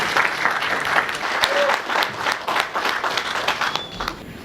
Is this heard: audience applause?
yes